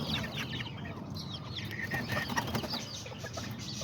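Roosters and chickens cluck and chatter in a cage at dusk as they settle for sleep, a steady mix of near and far calls with some wing flapping.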